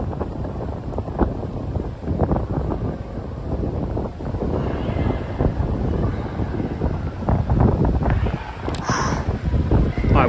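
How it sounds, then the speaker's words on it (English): Strong wind in Miami pounding the microphone with a dense, steady low roar and shifting gusts for about ten seconds, loud and close, with no clear speech. "Oh my gosh, it is so windy here."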